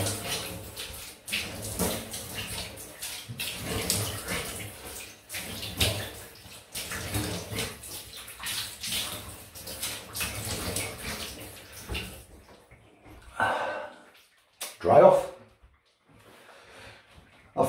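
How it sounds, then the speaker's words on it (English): Cold tap water runs steadily over a Rockwell 6S safety razor during a quick rinse, a close continuous splashing hiss that stops near the end, followed by a few faint clinks and handling noises. "Let's rinse the razor. Quick cold rinse."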